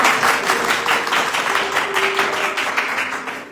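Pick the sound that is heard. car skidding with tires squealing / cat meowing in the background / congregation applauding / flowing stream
congregation applauding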